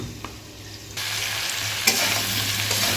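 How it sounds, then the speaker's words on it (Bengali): Gati kochu taro pieces are stirred in a covered pan, a scraping stir followed by a steady, fairly loud frying sizzle that swells when the lid comes off. "ঢাকাটা খুলে এবার একটু নেড়ে চেড়ে আবার ঢেকে দেবো"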